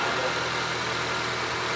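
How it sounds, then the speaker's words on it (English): The K24 engine of an Acura TSX wagon, running without an intake, gives a close, steady, throaty idle with a low rumble and no voices. "That sounds very throaty for no intake."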